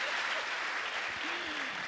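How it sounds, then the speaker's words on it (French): An audience claps for an orchestra in a continuous broadband patter of hands, with a faint voice murmuring underneath. "applaudissez pour l'orchestre"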